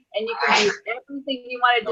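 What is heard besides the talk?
sneeze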